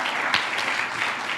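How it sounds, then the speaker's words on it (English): Brief, steady audience applause for student teams at a youth pitch competition and trade fair, a dense wash of clapping with a couple of sharper claps standing out. "So please give a big round of applause to all teams that participated."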